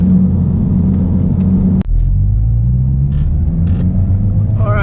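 Mazdaspeed 3 driving on a country road, a loud steady engine rumble and road drone close up inside the car, with one brief dropout midway before the drone resumes.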